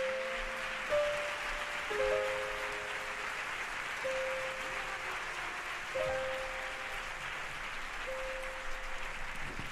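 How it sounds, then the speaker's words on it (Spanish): Steady applause at an inaugural gala welcoming a guest, a dense wash of clapping from a large audience, with a few sustained musical tones sounding over it. "Vamos a darle un fortísimo aplauso a Estíbaliz Uranga"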